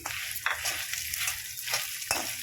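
Peanuts, coriander seeds and urad dal fry in a pan, giving a soft, steady sizzle. A spoon stirs and scrapes the pan several times, leaving sharp clicks over the hiss.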